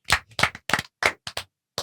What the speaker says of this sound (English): I just clapped with my hands like the reverse of where they usually are